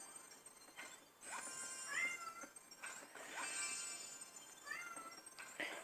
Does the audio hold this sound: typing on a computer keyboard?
no